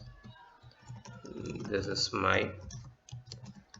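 Computer keyboard typing while values are entered into a form's entry box. Quick, close key clicks come before and after a short spoken phrase.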